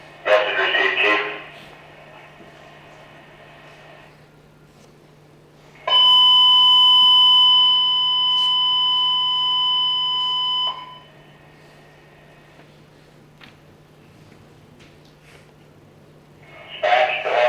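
Fire department radio alert tones for a memorial last-alarm call: a sustained loud two-pitch electronic tone lasting about five seconds, set between stretches of radio dispatch chatter with faint static hum.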